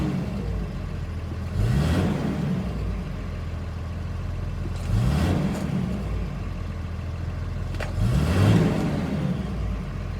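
Diesel Cummins common rail engine, converted with a custom TIPM, revved three times from idle; each blip swells in loud, close bursts before settling back to a steady rumble, with no talking.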